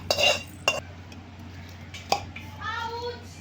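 A spoon clinks against a pot a few times while mixing raw mango pickle, made from homegrown mangoes, with added oil, with a voice speaking quietly in between.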